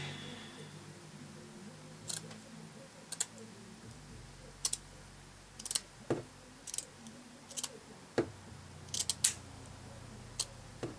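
Scissors snipping off the top bit of a lace book page, a series of quiet separate clicks and cuts spaced a second or so apart over faint room noise.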